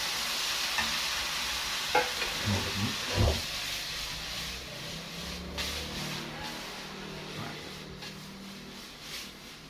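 Instant noodles stir-fried in a hot pan with egg, a steady sizzle and hiss broken by scraping stirs and a few clanks near the start, close and fairly quiet throughout.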